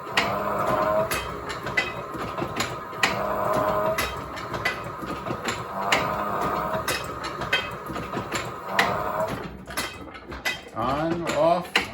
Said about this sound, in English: step on the pedal, the motor runs, and so does the press.